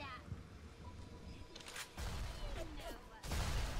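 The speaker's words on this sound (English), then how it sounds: "Like, I'm hearing explosions," Distant explosions and bursts of gunfire echo through a scene in the video game Bioshock Remastered, rumbling booms rising in waves beneath a speaking voice.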